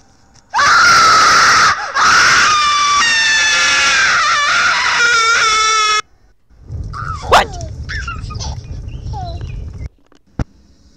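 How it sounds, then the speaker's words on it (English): A monster in the Slendytubbies horror video game lets out a loud, sustained shrieking scream for several seconds, cut by a short break, then quieter game ambience with scattered squeaks and a sharp click follows. "he'll start moving really fast and he'll make this really loud screaming noise"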